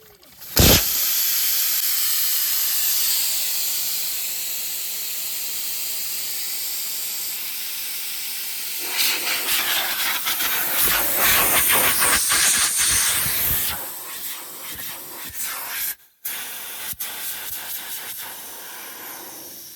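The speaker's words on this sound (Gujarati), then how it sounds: "પહેલાં હવા કાઢી નાખીએ આપણે." Air hisses loudly and steadily out of a tractor tyre valve with the valve core removed for several seconds, then turns rougher and sputtering before cutting off, followed by a few faint clicks.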